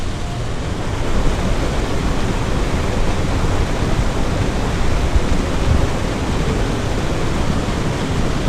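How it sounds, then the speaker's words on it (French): A small mountain waterfall along the GR5 trail in the Alps near Saint-Sauveur-sur-Tinée roars as a loud, steady wash of rushing water. "Une petite cascade"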